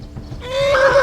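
A horse in Kingdom Come: Deliverance lets out a single loud, close whinny, its rising and wavering cry building over a low rumble of movement.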